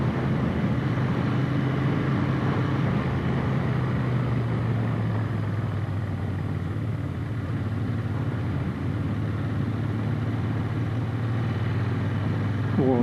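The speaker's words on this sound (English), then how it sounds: "Riding this motor on the GT would definitely be a lot of fun." A Royal Enfield 650 GT motorcycle engine pulls steadily while being ridden, a loud, continuous low drone with a smooth, even hum that holds throughout without pauses.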